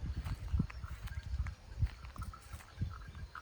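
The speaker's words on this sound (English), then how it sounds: "You can hear the cowbells." Cows wearing cowbells on a farm in central Bali make dull, hollow clunks in an irregular rhythm, fairly close by, with faint outdoor background behind them.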